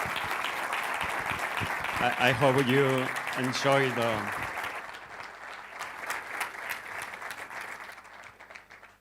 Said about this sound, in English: We can give you a huge applause.